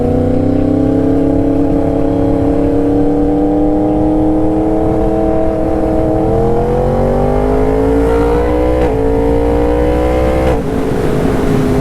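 Motorbike engine pulling hard in third gear, a loud close droning roar with rising pitch that climbs steadily, with brief dips near the end.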